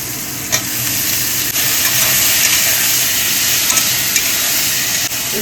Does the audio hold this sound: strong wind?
no